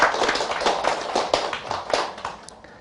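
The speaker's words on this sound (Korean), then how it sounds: "우리 자신을 위해서 한 박수 한번 칩시다." A room full of people at a Buddhist dharma talk applauds, a dense patter of clapping that starts strong and tapers off over a few seconds.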